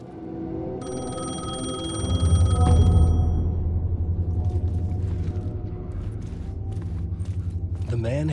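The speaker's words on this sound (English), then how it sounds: "phone was ringing" An old telephone in the video game Alan Wake 2 rings with a bright metallic trill for a few seconds, then stops and gives way to a low rumbling drone with a voice narrating over it.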